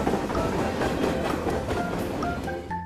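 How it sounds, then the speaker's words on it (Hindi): A train rolling along the rails gives a steady rumbling clatter of wheels over track joints, close and fairly loud, with a few faint tones near the end. "एक रेलवे स्टेशन में जब ट्रेन जा रही थी"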